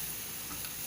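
Thalipeeth frying in oil in a pan, a steady close sizzle running unbroken through the short moment.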